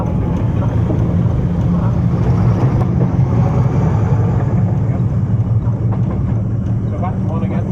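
A Class 50 diesel locomotive, 50015, roars loudly and steadily, a deep throbbing rumble that builds as it revs, with faint voices underneath.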